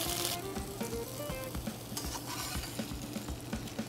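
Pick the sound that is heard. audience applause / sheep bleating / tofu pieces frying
tofu pieces frying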